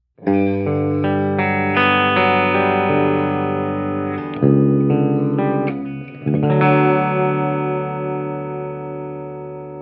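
Electric guitar with a clean tone plays sustained chords that ring out, joined by a few changes and a short break near the middle. It is fairly loud and steady.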